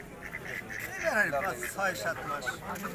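Domestic geese at a rural poultry market in Sirajganj, a few faint honks and quacking calls close by amid quiet background talk.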